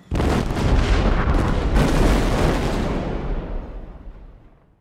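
Cartoon explosion effect bursts in loud and booming, a broad rumble that holds for about three seconds before fading away, with no talk over it.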